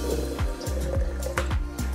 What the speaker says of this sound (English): I just put a little bit of water in here.